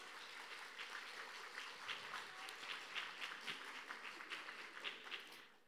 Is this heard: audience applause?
yes